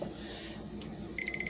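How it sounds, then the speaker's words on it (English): A kitchen timer goes off while cranberry orange jam cooks on the stove, sounding a rapid series of bright electronic beeps near the end over a soft background hiss. "oh, there goes the timer"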